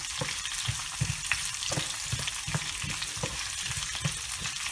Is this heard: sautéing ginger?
yes